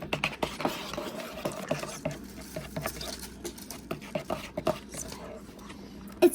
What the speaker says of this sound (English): And now let's mix.